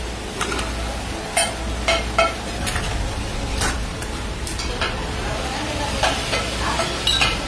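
Molten aluminium is ladled with an iron ladle into a die for a roti tawa, giving a constant workshop rumble dotted with scattered metallic clinks and knocks.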